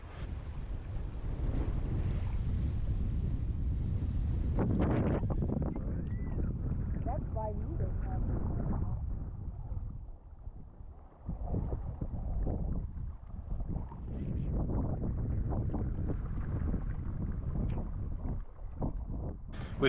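A small dinghy motors across open water off the islands of Los Roques, Venezuela, with steady engine rumble, splashing hull and heavy wind buffeting the microphone throughout.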